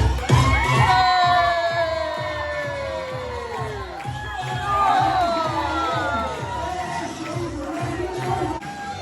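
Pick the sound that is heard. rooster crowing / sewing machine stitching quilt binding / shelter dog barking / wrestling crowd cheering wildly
wrestling crowd cheering wildly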